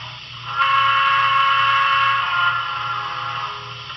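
A sustained, slightly reedy whistle from an N scale model PRR T1 Duplex 4-4-4-4 steam locomotive blows for about two seconds over a low rumbling hum, then tapers into a fading hiss.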